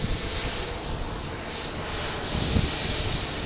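An airplane engine roars steadily at Logan Airport, a loud, broad rumble that holds constant and swells slightly toward the end, with no talk over it.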